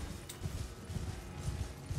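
Horse gallops in Elden Ring, a rapid rhythmic clip-clop of hooves on the ground, steady and moderately loud, with no voices.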